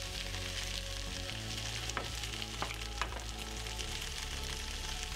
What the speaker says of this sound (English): I'm gonna shear it up now. Well done, Steve. Just gonna shear it up now. You can see some potato